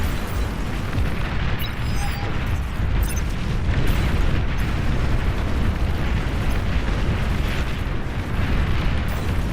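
An enemy commander blows up in the strategy video game Beyond All Reason, setting off a continuous heavy rumble of booming explosions that rolls on loud and dense throughout.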